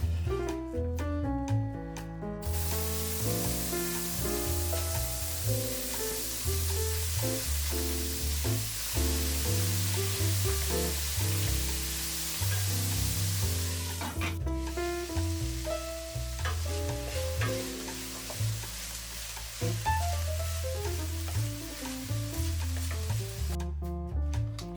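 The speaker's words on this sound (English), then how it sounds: "Add the onions and peppers and fry a little." Onions and peppers fry in olive oil in a hot pan, though a steady musical bed dominates and any sizzle is buried beneath it, continuous and unbroken for about twenty-five seconds.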